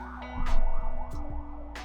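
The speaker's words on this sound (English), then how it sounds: "Sirens everywhere." Emergency vehicle sirens wail outside, rising and falling tones cycling a few times at moderate distance, with a low background hum and no talk over them.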